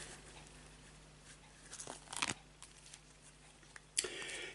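A deck of tarot-style cards shuffled by hand during a quiet mediumship reading, soft riffling and brushing with a few sharper snaps, faint and close in a still room.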